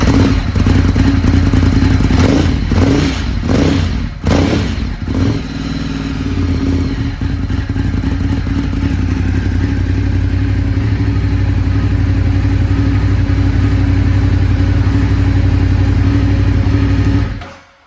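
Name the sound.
Ducati Monster 821 motorcycle engine running and revving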